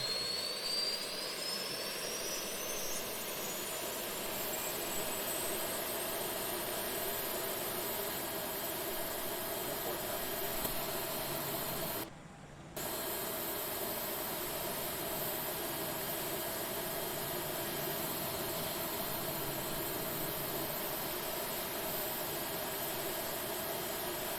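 An Airbus A320 taxiing in Flight Simulator X gives a steady, loud jet-engine whine and roar with a constant high tone, continuous and alone apart from a brief dip in the middle.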